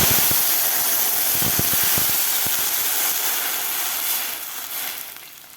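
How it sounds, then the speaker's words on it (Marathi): Two glasses of water poured into hot oil with bloomed cumin seeds, producing a loud, steady hissing sizzle that holds for several seconds before trailing off. "आता यामध्ये घालायचं आपल्याला 2 ग्लास पाणी."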